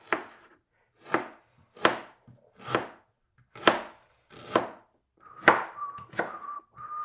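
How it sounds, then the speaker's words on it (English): A knife chops ginger on a cutting board in about nine distinct, close, sharp strokes at an uneven pace, with a faint whistling tone near the end. "So chopping all the ginger."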